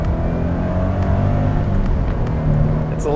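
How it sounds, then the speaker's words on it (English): A 2016 Mazda MX-5's engine revs with a somewhat thrashy, vacuum-like tone through its stock intake sound generator, a steady loud drone with rising harmonics heard from inside the car. "It's a little thrashy, so it doesn't make the loveliest noise in the world, and with the stock intake, it's got this sound generator tube and it just sounds like a vacuum cleaner"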